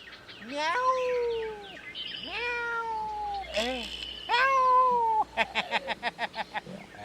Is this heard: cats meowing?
yes